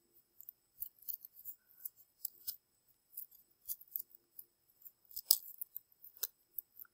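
Scissors snip through folded paper to cut out a snowflake, a close series of quick, crisp cuts and small rustles in irregular bursts with short quiet gaps between them.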